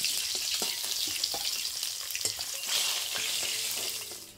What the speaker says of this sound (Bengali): এইবার বাদ বাকি মাছগুলো ভেজে নেওয়া হচ্ছে।